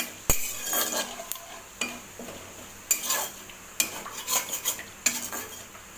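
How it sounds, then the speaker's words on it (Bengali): Whole cumin seeds and a bay leaf stirred in hot oil in a pan while cooking paneer, a metal spoon scraping and clinking against the pan in repeated strokes over a faint sizzle, close and fairly quiet. "এর মধ্যে আমি সাদা জিরে দেবো আর তেজপাতা দেবো একখানা। দেওয়ার পর নাড়াবো ওটা।"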